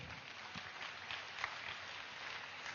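An audience at a large meditation summit in India applauding, a steady, faint wash of clapping from a big crowd, heard without speech.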